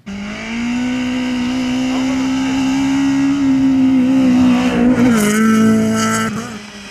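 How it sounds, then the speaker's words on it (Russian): Modified Russian-made race cars on a winter ice track at a hippodrome, one engine droning loud and steady with a sustained pitch that rises slightly and dips, close by, with no voices. "Громкие, яркие и отечественные. Трековые автогонки – один из старейших видов автоспорта"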